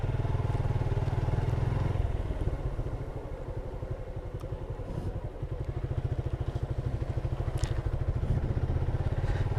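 A motorcycle rides along a road, its engine putting out a steady, rapid low thrum up close, easing briefly midway before pulling strongly again, with occasional light clatter over bumps.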